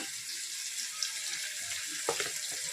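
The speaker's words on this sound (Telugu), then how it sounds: "కొంచెం కరేపాకు వేసాను ఇది కొంచెం ఎర్ర వేగిన తర్వాత" Curry leaves frying in hot oil for a mutton curry, a soft steady hiss of sizzling with a couple of faint crackles, fairly quiet.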